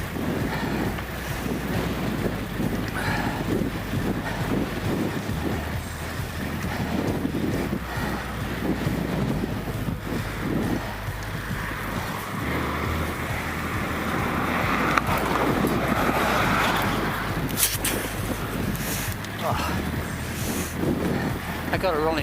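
Cold mountain wind buffeting a cyclist's microphone on roads around Slieve Donard, a continuous rough roar with low rumbling gusts throughout, while someone talks underneath.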